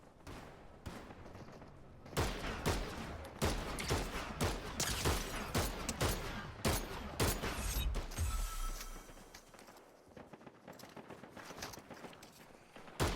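Bursts of gunfire in Fortnite, rapid sharp shots in clustered volleys of varying loudness, some close and heavy, with shuffling movement in between.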